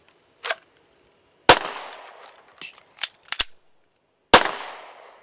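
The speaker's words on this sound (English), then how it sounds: "I'll use the rack method instead of the slide catch lever." A pistol slide is racked by hand during an emergency slide-lock reload, giving several sharp metallic clacks and snaps at irregular spacing with brief ringing tails, each sounding close and clear against near silence.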